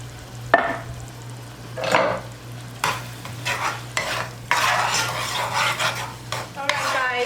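Tomato sauce (salsa tomate) is poured into a hot pan and stirred, with a steady sizzle under repeated scraping and clinking strokes of a utensil.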